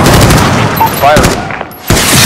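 Loud, close gunfire in a Call of Duty Modern Warfare firefight during a US Embassy siege, rapid bursts crackling over the scene with a brief lull before another volley, while voices shout nearby.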